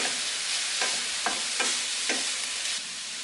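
Steady, loud sizzling of food frying in a pan, broken by a few short scraping stirs at uneven intervals.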